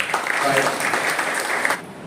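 Audience applause rings out at a satsang at Sri Sai Dharmakshetram to welcome the speaker, a dense, steady burst of many hands that carries on briefly and then stops abruptly.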